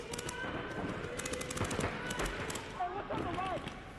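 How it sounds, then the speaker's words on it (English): Paintball markers firing during a tournament match, quick faint pops in bursts under continuous commentary and crowd noise. "Colt Roberts shooting down the wire."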